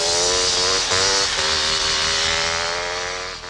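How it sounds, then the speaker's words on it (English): An enduro motorcycle engine revs hard and close during a wheelie on an open road, with a buzzing, high-pitched note, a couple of quick throttle blips, and a slight fade at the end. "A beautifully controlled wheelie"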